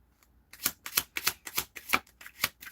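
Tarot cards riffled and shuffled in a quiet room: a run of about eight crisp, close flutters in quick succession after a brief silence.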